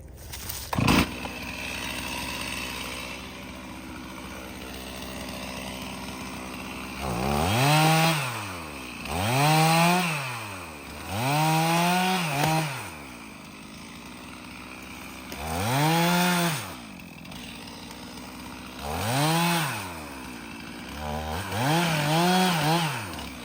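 A chainsaw idles, then repeatedly revs up into loud, droning cuts through a red oak log, about six surges with dips back to idle between them.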